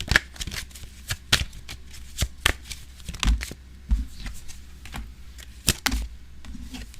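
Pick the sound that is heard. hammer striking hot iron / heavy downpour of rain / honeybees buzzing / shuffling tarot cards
shuffling tarot cards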